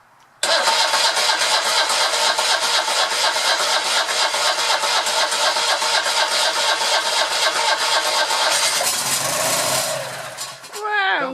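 A Citroën 2CV van engine under renovation cranks and catches, running in a loud, buzzy, rapidly pulsing rhythm for several seconds before faltering and then starting to pick up again.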